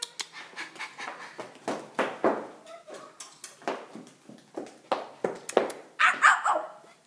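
A playful dog barks in short bursts and pants rapidly between them, with a few yips, close by and fairly loud, and no talking over it.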